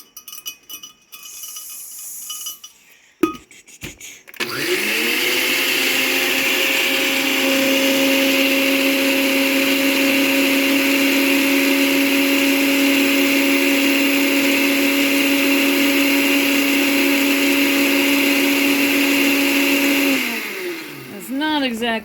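A blender runs steadily, chopping goldenrod into a fine mash for a homemade tincture; the motor whirs loud and even for about fifteen seconds after a few handling knocks, then winds down near the end.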